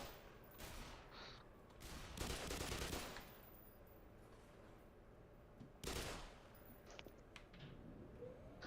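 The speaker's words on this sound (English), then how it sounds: "I'm just shooting more people." Gunfire in the video game Black Mesa, with bursts of rapid shots in two separated clusters over a steady background, quiet and somewhat distant in the mix.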